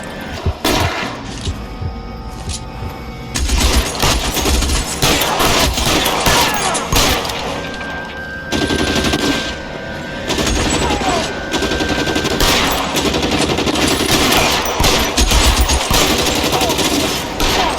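Dense gunfire fills a shootout in L.A. Noire, with rapid machine-gun bursts and single shots cracking almost without pause. The fire is loud and close, with brief lulls, and voices shout at times beneath it.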